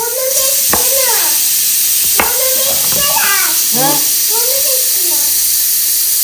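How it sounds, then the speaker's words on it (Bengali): Vegetables and brinjal slices fry in a pan for shukto with a steady loud sizzle and hiss, with occasional stirring clinks and someone talking over it. "শুক্তো রান্না করবো বলে সবজিগুলো ভাজা করে দিচ্ছি আর হচ্ছে বেগুন ভাজা"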